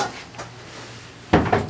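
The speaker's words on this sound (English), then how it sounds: "make sure the knife is clean" A drywall taping knife being cleaned: a quiet scrape, then two sharp metallic clacks and rattles of the steel blade near the end, close and without speech.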